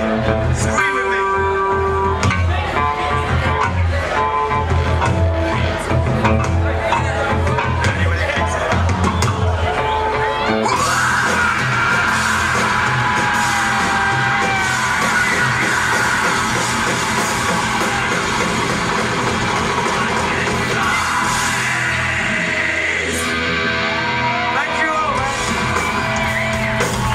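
A comedy-club audience yells and screams along with the performer, a dense sustained roar of shouting voices filling the room throughout, loud and close.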